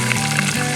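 Wild pork sizzles in a cast iron Dutch kettle over dry pecan wood outdoors, a steady close crackling hiss that fills the short moment without any voices.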